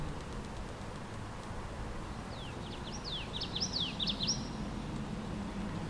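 Small birds call from park trees, a short run of thin, high chirps in the middle of the clip, faint and distant over a steady outdoor hiss.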